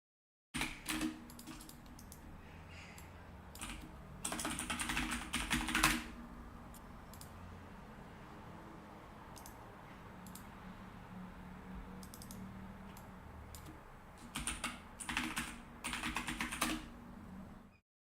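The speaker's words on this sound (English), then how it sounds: "No, that was my keyboard." Computer keyboard typing in quick clattering bursts, with a long stretch at the start and another near the end, separated by a quieter gap of occasional stray key clicks in a room.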